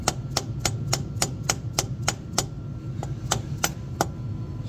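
A rubber mallet taps an injector down into its bore on a 7.3L Powerstroke diesel engine. The strikes are sharp, evenly paced and close, about a dozen of them over a low steady hum.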